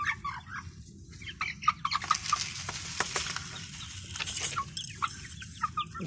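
Month-old Australorp chicks cluck and cheep busily while being fed grain, with light pecking and patter throughout and no talking.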